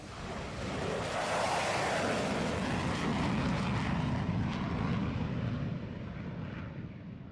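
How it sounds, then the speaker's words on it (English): F-22 Raptor fighter jet engine roaring loudly and steadily as the aircraft passes, a powerful broad jet rumble that swells then slowly fades into the distance. "there you have it, the mighty F-22 Raptor"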